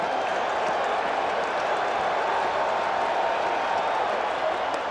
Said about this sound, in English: if you like crowd noise, if it does something to you, you come to the right place and at the right time